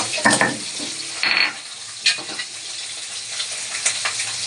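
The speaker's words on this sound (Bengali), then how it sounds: "দেখো পুঁটি মাছগুলো ভাজা হয়ে গেছে" Pool barb fish fry in a pan, giving a crackling sizzle broken by a few louder bursts of stirring and scraping, close up with no talking.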